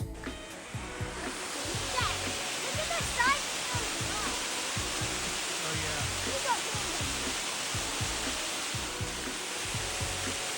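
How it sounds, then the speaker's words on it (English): Sorrels Branch Falls pours in a snowy forest setting, a steady, dense rushing roar of falling water that holds even and unbroken throughout. "I could not believe how nice of a waterfall there was off of a beaten path."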